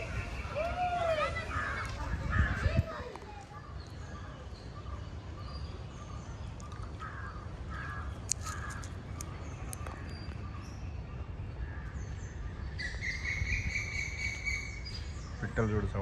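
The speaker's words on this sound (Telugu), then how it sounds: "పిట్టలు చూడు సౌండ్ చేస్తున్నాయి." Birds call among the trees of Lalbagh garden in Bengaluru: faint, scattered chirps and a few brighter tweet bursts over a steady outdoor hum, with people talking and moving nearby.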